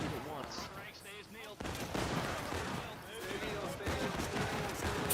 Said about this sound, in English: Firing into the Americans as they move across the bridge.